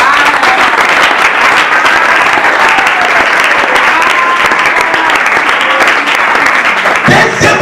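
A church congregation applauding loudly and continuously, dense clapping that fills the room with crowd noise, fading slightly at the very end.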